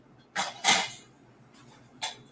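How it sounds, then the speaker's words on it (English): A skillet is pulled out in a home kitchen, giving a few sharp metallic clanks and scrapes, with two quick knocks close together and a single clatter shortly after. "So we're also going to need to pull out a skillet here"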